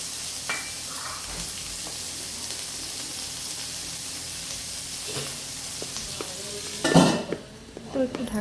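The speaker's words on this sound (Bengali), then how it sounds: "হালকা একটু ভাজা করবো পেঁয়াজটা" Onion frying lightly in oil in a pan, a steady soft sizzle with occasional utensil taps, then a louder clatter of pan and lid near the end, no talk.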